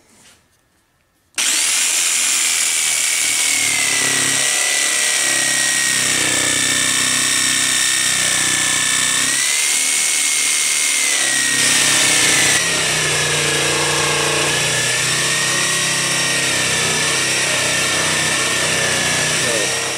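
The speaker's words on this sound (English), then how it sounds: "I went to my dad's house and borrowed his jigsaw." A borrowed jigsaw cuts through sapling wood for a survival bow. The loud, steady motor whine starts after a brief moment of quiet and runs continuously to the end, its pitch dipping and shifting slightly as the blade works.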